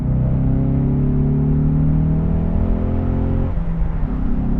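A Ford Mustang EcoBoost High Performance driving through a corner, its four-cylinder engine droning steadily from inside the cabin, the pitch holding then dropping as the car eases off.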